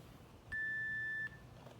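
A single steady electronic beep from a workout interval timer, lasting under a second, faint against quiet room noise.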